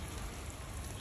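Artificial rain sprayed over pet birds in an enclosure makes a steady, even hiss of falling water with no breaks, fairly faint and close.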